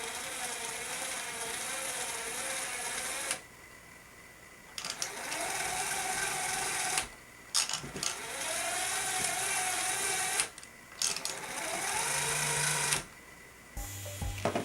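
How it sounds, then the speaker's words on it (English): A LEGO wheel-driven lift raises a LEGO train locomotive with a quiet motorized whir and gear ratcheting. The whir comes in long runs broken by short pauses. "we're gonna not only test whether it can lift it, but also how level the load is going up and down the elevator"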